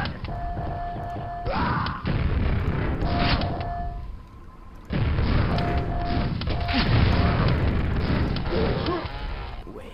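Weapons firing in the video game Quake: heavy booming shots and blasts in a few bursts, with short electronic tones between them and a brief quiet gap in the middle.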